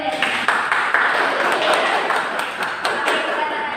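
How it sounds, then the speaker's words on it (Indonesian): A classroom group applauds during a microteaching math lesson, brief dense clapping close by, mixed with a few knocks and voices. "Tepuk tangan dulu, Teh."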